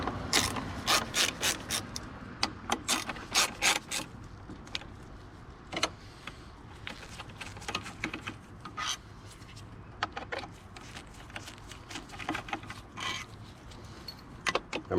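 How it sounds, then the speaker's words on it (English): Removing the throttle body from a 2009 Ram 1500 brings rapid ratchet clicking in quick bursts, close up, along with metallic tool rattles and scraping under the hood, with no talking. "So let's rip this throttle body off, see if we can get it out of the way."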